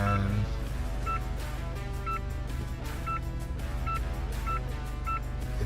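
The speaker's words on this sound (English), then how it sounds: "that PDC is warning me that I'm a little closer to the wall there" An Isuzu D-Max parking distance control sounds repeated short warning beeps near a wall, about one per second, over a loud steady backdrop of music and road noise.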